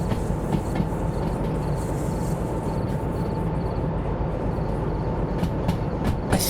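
Train from the Derail Valley simulator game rolling steadily along the rails, a continuous close rumble with faint rhythmic clicks and light high-pitched squeals near the end.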